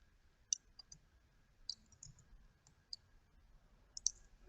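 Soft computer mouse clicks while working in Blender, a handful of light, sharp taps scattered irregularly over low room hum, close but quiet.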